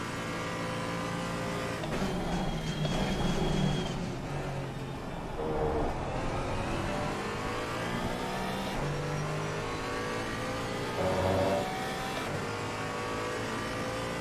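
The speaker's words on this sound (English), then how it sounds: "Here comes this Merc creeping." Mercedes GT3 race car engine in Assetto Corsa Competizione multi-class racing, a steady droning roar with rising and falling revs and gear changes as it approaches, loud and continuous alongside other cars.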